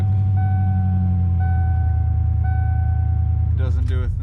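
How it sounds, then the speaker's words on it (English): A 1994 Ford F150 truck engine rumbles low and steady at close range, with three evenly spaced warning chimes sounding over it before a voice speaks near the end. "Start the truck."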